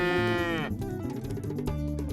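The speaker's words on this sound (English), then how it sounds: "In their shamba, they have 10 dairy cows and 5 calves." On a small farm with dairy cows and calves, one cow lets out a loud, close moo that falls in pitch, followed by lower grunting and lowing from the herd.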